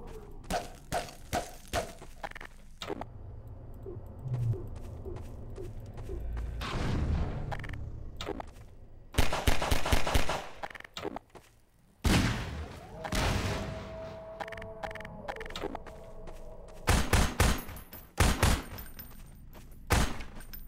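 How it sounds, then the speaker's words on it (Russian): Bursts of rapid gunfire and booming shots crackle in clusters in the video game Half-Life 2, loud and close, with pauses and mechanical clicks in between. "Немножко стрельбы."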